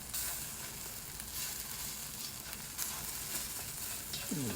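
An egg fries in a nicely seasoned cast iron wok for fried rice with shrimp and Chinese sausage, giving a steady, close, loud sizzle with light stirring scrapes throughout.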